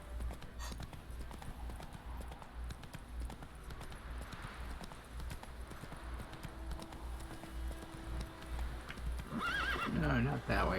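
Roach the horse gallops with steady rhythmic hoofbeats in The Witcher 3, breaking into a loud whinny near the end, while a voice talks over the game sounds.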